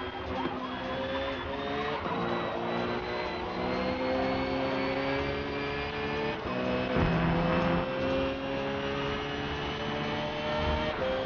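The #92 Porsche RSR race car is driven in Forza on the Big Oak circuit during close racing. A loud, unbroken engine drone climbs steadily in pitch through the gears, with brief dips at the shifts and no speech.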